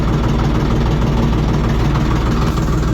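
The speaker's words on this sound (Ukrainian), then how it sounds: "Трохи газу дамо зараз." A small cab tractor in the 24–40 hp economy class runs steadily in reverse, its engine idling loud and close with a continuous low rumble and vibration, throttle raised slightly.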